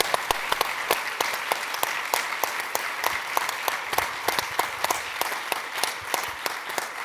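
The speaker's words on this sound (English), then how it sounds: "So a big round of applause for all of them." A closing-session audience applauds the team behind a traditional-values conference, producing a sustained, even wash of clapping with a few sharp individual claps standing out close by throughout.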